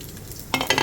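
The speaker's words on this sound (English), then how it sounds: "I'm just frying the fat to get the nice oils from it" Quiet sizzle of fat from roast pork frying in a pan, briefly louder with a stirring scrape partway through; no talking.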